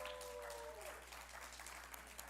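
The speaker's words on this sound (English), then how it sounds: "Let's give a round of applause for ourselves." Applause from guests at a doctoral homecoming alumni reception and mixer, a quiet, steady patter of clapping held at low level throughout, with a faint tonal hum near the start.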